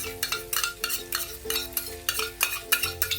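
A spoon stirs whisked yogurt into cauliflower roast masala in a pan, with rhythmic scraping strokes repeating steadily over a soft sizzle.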